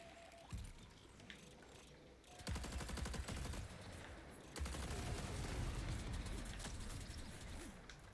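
A powerful turret fires in the Marathon shooter game, long bursts of rapid automatic gunfire over game background noise, fairly quiet overall.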